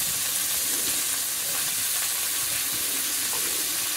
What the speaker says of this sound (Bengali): ভাজা ভাজা হয়ে গেলে আমি এবার কুচানো টমেটো দিয়ে দিচ্ছি।